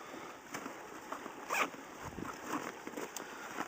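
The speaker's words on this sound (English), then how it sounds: "Let's zipper this back up here." A zipper runs shut on a Maxpedition Condor II backpack, close up, in a few short rasping pulls with one louder stroke in the middle, no voices.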